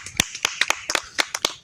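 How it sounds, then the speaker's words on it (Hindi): Scattered handclaps from a small group of people at a comedy show, about a dozen sharp claps in an uneven, sparse rhythm, fairly close and moderately loud, with no talking. "तालियों भाई ताली"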